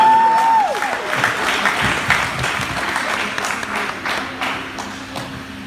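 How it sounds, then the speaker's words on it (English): An audience at a talk applauds steadily for several seconds, close and full. A whistle-like tone fades out near the start, and the clapping slowly thins toward the end. "Give me a round of applause"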